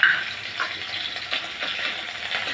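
Garlic paste frying with shrimp in a pan, a soft continuous sizzle with faint crackles and stirring, alone and close.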